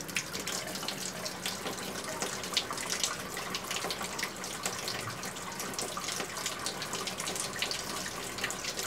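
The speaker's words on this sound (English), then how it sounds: "Let's turn on the hot water" Hot water runs steadily from a tap fed by a Girard tankless heater in an RV, a continuous bright splashing gush at close range with no voices.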